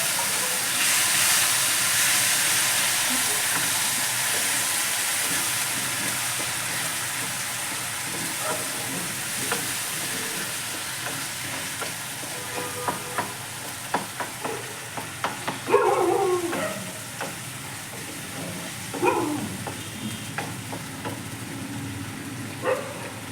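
Onion, ginger and garlic paste frying in hot oil for a curd-style katla fish dish, a steady sizzle and hiss with intermittent stirring scrapes and clinks, close up and without voices.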